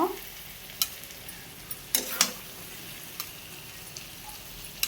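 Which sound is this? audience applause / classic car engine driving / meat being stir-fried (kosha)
meat being stir-fried (kosha)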